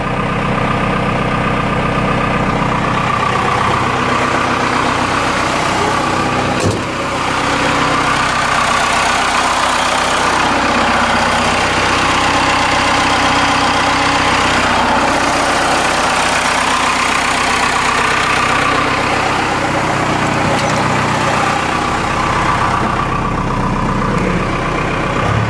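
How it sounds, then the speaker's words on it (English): A Cummins 4BT diesel engine idles steadily with cold oil after an oil change, a loud, even, continuous clatter and rumble held close by for the whole stretch with no talk over it. "That's a happy sounding Cummins."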